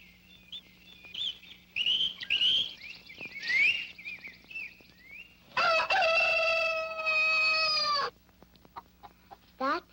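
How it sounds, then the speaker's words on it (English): A rooster crows clearly in a long, drawn-out call near the middle, with softer clucks and bird chatter before it and a brief call at the end. "That's a rooster. He crows."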